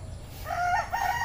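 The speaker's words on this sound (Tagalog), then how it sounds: "Ang lalaki ng manok. Ayan ang manok." A rooster on a chicken farm in Fortune, Marikina City, gives a brief crow that rises out of quiet background noise partway through, close and fairly clear.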